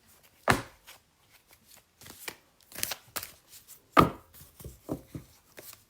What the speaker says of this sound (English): Let's pull one card from the Akashic Tarot deck.